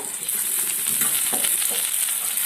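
Fish frying in oil on a flat tawa gives a steady, close, even sizzle with no talk over it.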